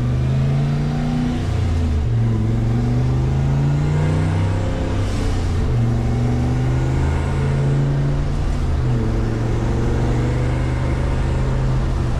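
A turbocharged LS V8 car engine with a freshly swapped camshaft drones steadily while driving, loud and close with rising and falling tones as it accelerates and shifts, and no voices over it.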